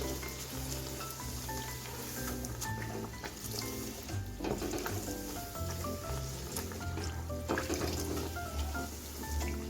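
Sabudana luchi fry in hot oil with a continuous low bubbling sizzle, fairly faint and steady throughout, with light clinks and stirring mixed in.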